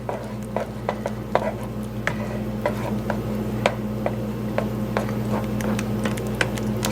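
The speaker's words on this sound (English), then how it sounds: "And we'll stir this in." A spoon stirs steakhouse-style baked potato soup in a pot, giving scattered light ticks and scrapes against the metal over a steady low hum, with no voices.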